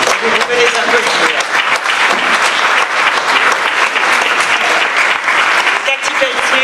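Sustained, loud audience applause fills a hall at the launch of a Salon de la Gastronomie des Outre-Mer at Porte de Versailles, a dense steady wash of many hands clapping with some crowd noise mixed in.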